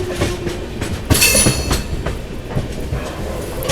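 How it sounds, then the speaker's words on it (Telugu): Passenger express hauled by a WAG 9 electric locomotive runs along rails as it is switched into a station loop, with a steady close rumble, rhythmic clickety-clack of wheels over joints and a louder burst of rattling midway. "మన ట్రైన్ లూప్లో తీసుకోవడం జరిగింది"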